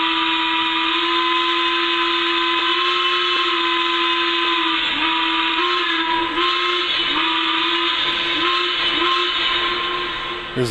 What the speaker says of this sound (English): Okay, here's the whistle.